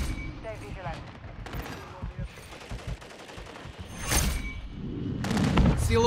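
Gunfire in Call of Duty Modern Warfare 3 multiplayer on the Rust map, bursts of shots and booms building into heavy continuous firing near the end, with voices speaking in between.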